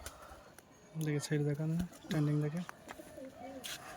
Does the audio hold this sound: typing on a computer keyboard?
no